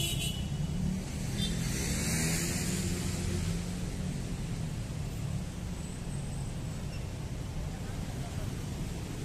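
Dense city road traffic in a congested street near pedestrian crossings in central Jakarta, a steady wash of engine rumble and tyre noise from many vehicles, with a voice talking over it.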